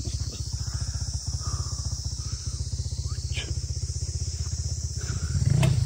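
A motorcycle running along a narrow footpath, its steady engine putter continuous and close throughout, with brief voices over it and the engine swelling louder near the end.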